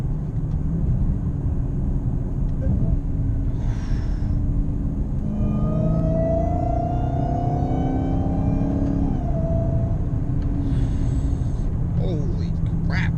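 A car fitted with a K&N Typhoon intake accelerates hard, its engine roar rising steadily with a climbing whine on top, continuous and close, with a voice briefly heard near the end.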